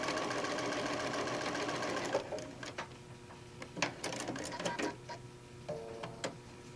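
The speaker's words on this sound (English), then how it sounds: "put a seam down the longer handle. The seam allowance on this project is 1/4 of an inch. So I'm just going to do a regular straight stitch." A sewing machine runs a regular straight stitch along the seam of a Japanese knot bag handle, a steady close whirr for about two seconds, followed by sparse clicks and fabric handling.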